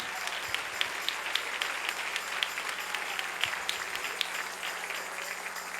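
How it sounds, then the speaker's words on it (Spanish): Steady applause from a church congregation honoring the King during a Sunday morning service, dense and continuous clapping with sharper individual claps popping out, no voices over it. "Dale un aplauso al Rey"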